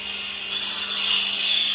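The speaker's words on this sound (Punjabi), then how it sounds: "ਕਟਰ ਚੱਲਦਾ ਇੱਧਰ" A cutter runs at a house construction site where a wall is being worked on, giving a steady high hissing whine that grows slightly louder partway through, with no talk.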